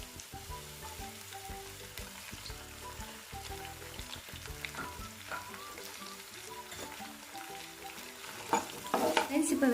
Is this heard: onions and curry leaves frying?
yes